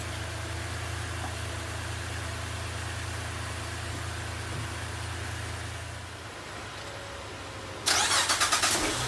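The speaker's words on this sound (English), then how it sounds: "I'm going to jump in and start the truck." A steady engine-like hum runs for several seconds, then a truck engine, jump-started with heavy-duty jumper cables from another car, cranks and catches near the end with a loud, rough burst.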